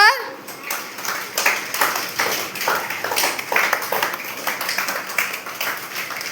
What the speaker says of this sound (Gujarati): ચાલો ત્રણ તાળી કરો